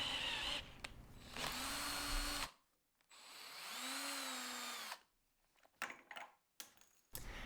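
A power tool drives a threaded insert into a wooden dowel in short whirring bursts with pauses between, close and fairly loud, in a woodworking shop.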